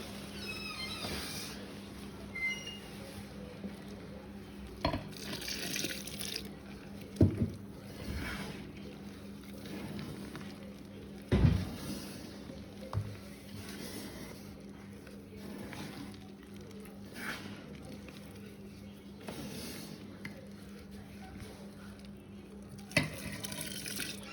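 Water is poured and mixed into semolina idli batter by hand, giving soft wet sloshing and squelching with occasional sharper knocks against the bowl, steady and close throughout.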